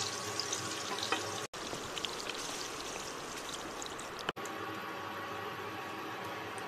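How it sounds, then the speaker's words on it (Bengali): Paneer cubes fry in hot oil with a continuous bright sizzle that holds steady throughout, broken by two brief silent cuts. "এবারে এই পনিরগুলোকে ভালো করে লাল করে ভেজে নেব।"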